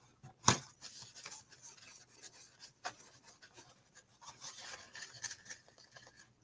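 An acrylic stamping block is wiped with an alcohol-dampened paper towel, giving faint, close rubbing and scuffing strokes with one sharper scrape near the start.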